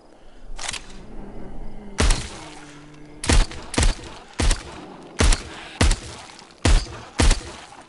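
Gunshots in the VR game Superhot VR: about nine sharp, loud blasts in an uneven sequence, most clustered in quick succession near the end.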